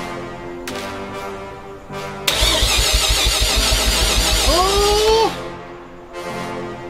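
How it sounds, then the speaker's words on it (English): A 1988 Mazda RX7 FC3S rotary engine cranks with the starter, a rapid rhythmic chugging of rotor compression pulses lasting about three seconds, loud and close, then cutting off into quiet. "Dude, that's rotor compression!"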